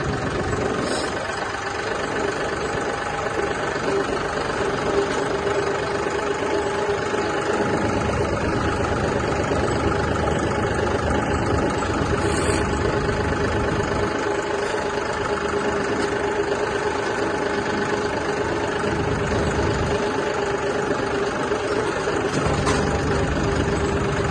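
A motorcycle with a trolley attached runs its engine nearby, giving a steady, moderate drone that holds through the whole stretch with little change.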